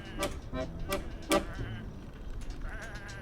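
Sheep bleating in a few spaced, fairly close calls, the loudest in the middle, over a soft background with faint low sounds between them.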